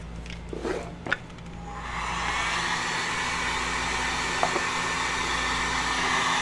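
Heat gun blowing hot air onto a part for a Warhammer 40K servo skull build, a steady loud hairdryer-like roar starting after a couple of seconds of faint clicks and handling sounds.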